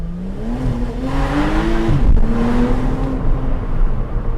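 A 2010s Porsche Cayman S 987.2 engine revs up steadily as it accelerates from first gear, rising in pitch, then dips briefly at a gear change before climbing again.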